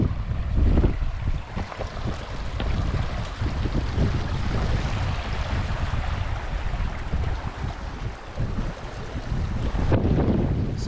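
Strong wind blows at a campsite in the remote Black Canyon of the Gunnison, Colorado, making a constant, loud, roaring rush with gusty surges and no voices.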